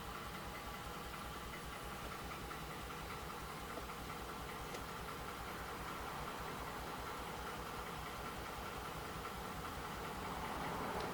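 A Ford F-150 with the 5.0 Coyote V8 runs at idle with a cylinder misfire. The engine sound is steady and close throughout, with a rough, knocking pulse and no talk.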